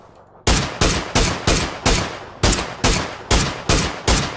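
Rapid gunshots from a gun in PUBG ring out ten times at a steady, quick rhythm, each sharp and loud with a short decaying tail, with no talking.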